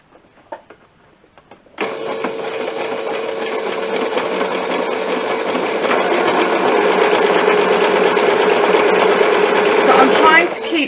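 A sewing machine zigzag-stitches over two textile pieces joined in the middle for a fabric bowl. It runs close and steady for several seconds at a continuous rapid mechanical whir, then stops, with faint handling noises before it starts.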